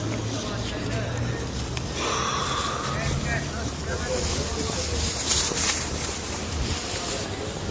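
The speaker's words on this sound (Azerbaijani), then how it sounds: "Ya zor külək var ha." Strong wind blowing outdoors, a steady broadband roar buffeting the microphone throughout, with people talking faintly underneath.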